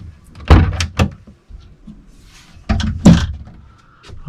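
A cupboard door on a Nord West 370 Coupe boat is handled close by, with two clusters of solid wooden thuds and knocks, a couple of seconds apart, over quiet cabin background.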